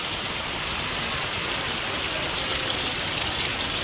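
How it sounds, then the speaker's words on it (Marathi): Heavy rain pours steadily and evenly, a dense close hiss of drops with no pauses and no voices. "जोरात असा पाऊस चालू आहे"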